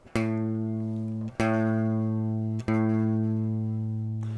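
A single low guitar string is plucked three times, each note ringing and sustaining, with the pitch shifting slightly between plucks as it is tuned down toward standard tuning.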